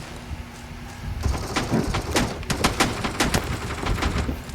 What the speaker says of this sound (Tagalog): What the hell is shooting at me?